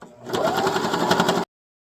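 A sewing machine stitches through a sleeping bag vest in a close, steady whirring run of about a second and a half that stops abruptly, with a little talk before it starts.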